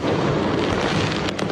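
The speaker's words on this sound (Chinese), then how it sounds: "有人伫遐放烟火。" Dense crackling and popping of fireworks set off at a busy street intersection in Taichung on New Year's Eve, loud and continuous with a few sharper bursts near the end.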